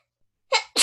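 A single sneeze, with a quick intake followed by a sharp, loud burst, after a moment of silence.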